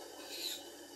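Woodturning gouge stroked on the fine side of a hand hone: a single brief, soft scraping rub, close and quiet, with no talking.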